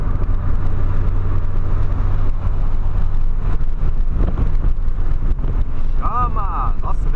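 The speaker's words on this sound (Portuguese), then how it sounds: "Nossa, ventão, hein" Strong wind roars around a Volkswagen Polo while driving, a loud, constant low rumble and buffeting that fills the whole stretch, with road and engine drone underneath.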